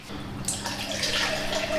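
Water sloshing and stirring as whey protein is mixed with about 200 ml of water for a post-workout oats bowl, a steady close wet swirl with small drips throughout.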